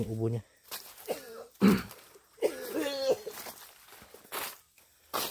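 A person who got rained on coughs in short bursts between stretches of speech, with rustling and footsteps close by.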